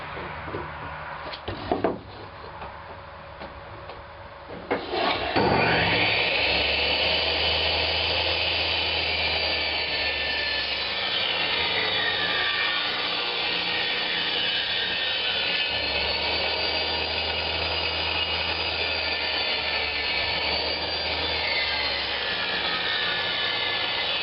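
A power saw rips a wood strip to 1 3/4 inch width for a segmented turned bowl. Brief handling knocks come first, then the blade cuts with a loud, steady whine and roar that holds to the end.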